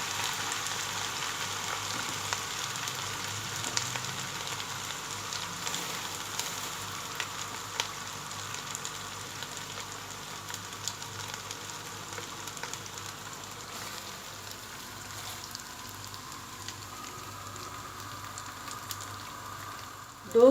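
Garlic ginger paste frying in a pan for Old Delhi style aloo matar keema gives a steady, moderate sizzle and crackle that stays even throughout, with no one talking.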